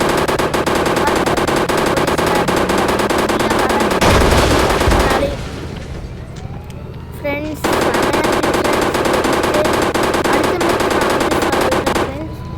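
Minigun fire in the Indian Bikes Driving 3D mobile game, loud continuous rapid-fire bursts with a brief pause and a whoosh midway, then another long sustained burst.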